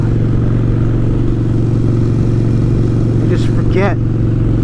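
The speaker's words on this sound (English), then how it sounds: "What a wonderful, absolutely beautiful sound coming from this bike." A motorcycle engine idles and revs steadily up close, a loud continuous mechanical drone, while someone talks over it.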